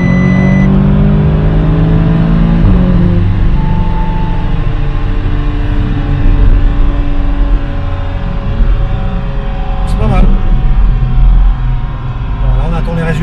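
A modified Audi S3 8V stage 2 with an aftermarket exhaust, heard from inside as it accelerates, a loud, steady engine drone building through the gears, with a couple of brief shifts and faint talk underneath.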